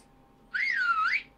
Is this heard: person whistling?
yes